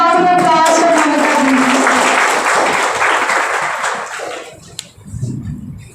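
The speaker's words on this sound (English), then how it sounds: "A big round of applause for Mamita." An audience applauds at an Engineer's Day 2022 gathering of the AEIE department at Haldia Institute of Technology, steady dense clapping that fills the room for about four seconds before fading, followed by a voice speaking.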